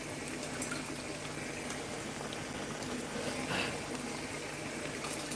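Steady bubbling and hissing of brinjal kuzhambu (eggplant curry) boiling in a pot, continuous and fairly quiet throughout, with no voices.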